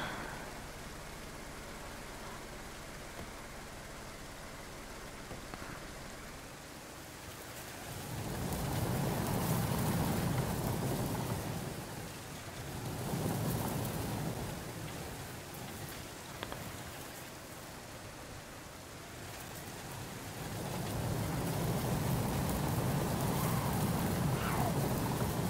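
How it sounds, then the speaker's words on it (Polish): Rain pours steadily in the video game DayZ, swelling in loud low rumbling waves around a constant hiss, with no voices over it. "Nie chciałbym w tym deszczu biegać"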